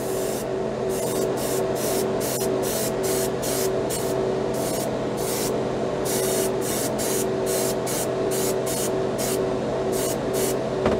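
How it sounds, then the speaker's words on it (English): Spray gun priming a spoon, a loud continuous hiss of atomized paint that pulses in short, regular bursts as the trigger is worked, close and with no voices. "let's go ahead and prime this spoon"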